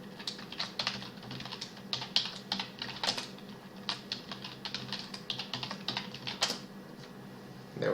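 A password is typed on a computer keyboard during a Linux install, a quick irregular run of close key clicks and taps over faint background hum, with brief pauses between bursts.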